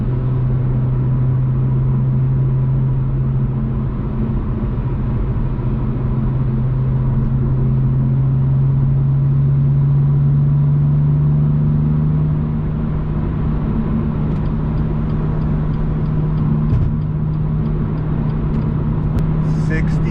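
A BMW M2 with exhaust silencers fitted, valves closed in comfort mode, holds a steady, muffled low engine drone as it is revved toward 3,000 RPM, with the pitch rising gently and no voices.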